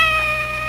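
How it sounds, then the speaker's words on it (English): A cat gives a single short, close meow as a sound effect in an old-time radio mystery drama, with a faint sustained tone beneath it. "Our first cat, and he's afraid of mice."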